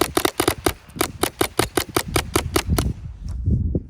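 An upgraded MCS Vortex air gun fires a rapid burst of about fifteen sharp, loud, closely spaced shots at close range, then falls silent with faint handling noise.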